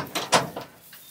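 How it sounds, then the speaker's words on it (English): A door opening during a weekend deep clean in a backyard roosting area, heard as a few short, close knocks and scrapes that quickly fade. "There's the door."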